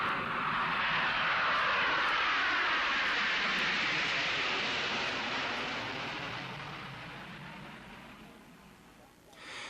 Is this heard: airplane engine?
yes